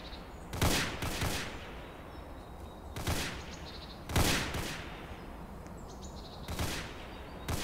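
Sniper shots in the Floodgate tower defence game, five sharp, loud reports spaced a second or more apart, each with a short decaying tail over faint chirpy game ambience, no talking.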